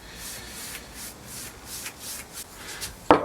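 Beeswax feed-and-polish rubbed by hand onto a small wooden desk with many coats of lacquer: steady soft swishing strokes in a rhythmic back-and-forth, fairly quiet and close, ending in a sharper knock.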